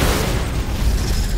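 A flashbang grenade goes off in a video game as a brief, dense low boom that fills the moment, with no speech over it.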